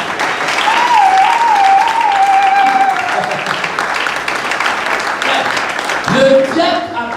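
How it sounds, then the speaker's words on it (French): A church congregation claps for the Lord during a French-language sermon, sustained loud clapping with a held tonal voice or instrument line over it and a shift near the end. "applaudissez pour le Seigneur"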